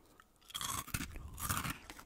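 Close-up crunching as someone chews a crunchy, smoky, barbecue-flavoured Japanese snack, in two quiet bursts of crisp bites separated by a short pause.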